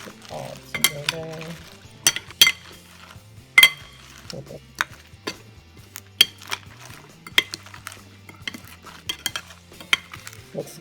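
A spoon tosses a Mexican salad with sauce in a bowl, producing soft stirring rustles punctuated by sharp clinks of utensil against the bowl, fairly close and quiet, with no talking.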